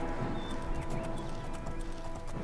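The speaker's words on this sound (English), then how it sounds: "this poor horse. He doesn't have a clue what's going on." A horse in The Elder Scrolls IV: Oblivion gallops with a steady, rapid clip-clop of hooves, close and fairly loud, heard over a continuous background wash of game ambience.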